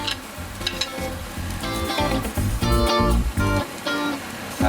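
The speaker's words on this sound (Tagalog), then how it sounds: "papainitin na natin yung sizzling plate natin" Meatloaf sisig with onions sizzling hard on a hot sizzling plate, a loud continuous crackle and hiss with rhythmic bursts as the food is stirred and pressed on the metal, close up and unbroken.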